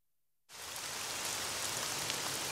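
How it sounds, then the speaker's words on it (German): Heavy rain in an animated cartoon starts abruptly after a brief silence, then pours steadily as a dense, loud hiss with no voices. "Es regnet so doll."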